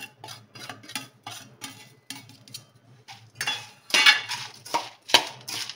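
A spoon mixes edible gum (gond), raisins and poppy seeds in a bowl for gond laddu, making a quick series of close clicks and scrapes that grow louder and busier toward the end.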